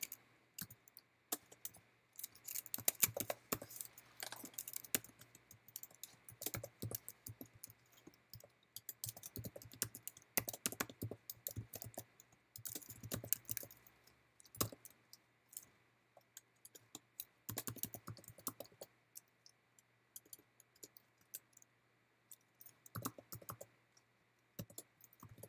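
Computer keyboard typing, faint and close, in irregular bursts of quick key clicks with short pauses between runs of keystrokes, and no voices.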